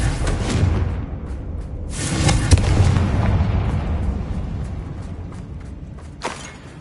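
A Confringo blasting spell in Hogwarts Legacy goes off as a loud, rumbling explosion, with a booming burst near two and a half seconds and a long dull roar that slowly fades.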